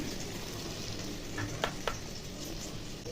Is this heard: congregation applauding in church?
no